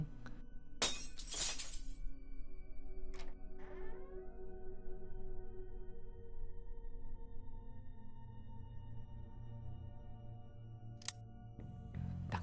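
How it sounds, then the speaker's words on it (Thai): Glass shatters in the video game Wet Nightmares with one sharp, loud crash of breaking shards early on, then scattered tinkling and clinks over a low, steady ambient hum. "ก็ได้ยินเสียงแก้วแตกนะครับเป้ง"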